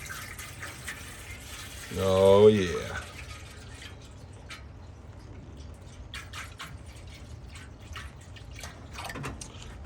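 Water is poured into the water pan of an Oklahoma Joe smoker, a brief gurgling splash followed by light drips, with someone speaking nearby.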